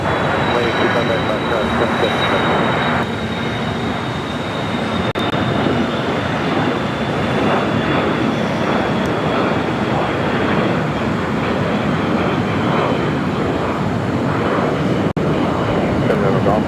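An airliner departing runway 25 right at LAX, a loud continuous jet roar with a thin high whine holding steady throughout, heard under intermittent radio and tower chatter.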